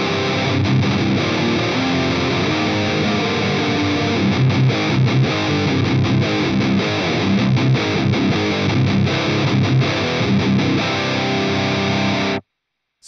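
Distorted electric guitar run through an Axe-Fx Ultra modeler with a parametric EQ set to 80 Hz and 8 kHz cuts, playing a steady, loud, dense riff for about twelve seconds before stopping abruptly.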